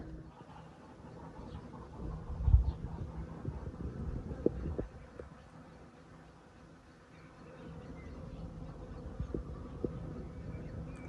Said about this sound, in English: and you can just hear the bees.